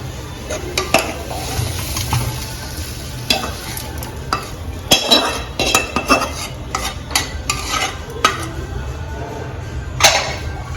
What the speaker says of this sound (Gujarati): જો હવે એકદમ સારી રીતે આ મસાલો મિક્સ કરી લેવાનો આમાં છે.